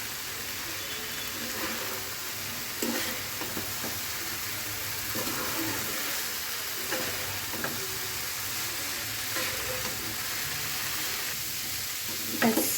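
Mixed winter vegetables sizzle and fry steadily in a pan while being stirred, a continuous close hiss broken by scattered scraping and clattering strokes, with no talking.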